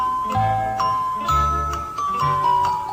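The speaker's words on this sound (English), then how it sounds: "Ah, there's the notification." EZVIZ EP3x Pro doorbell notification chime playing a short bright tinkling melody of several ringing notes, clear and close with nothing else over it.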